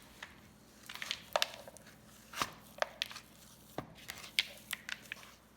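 Cookie dough with M&M candies being worked by hand in a bowl: faint, irregular soft squishes and small clicks scattered across several seconds, close by, with no voices.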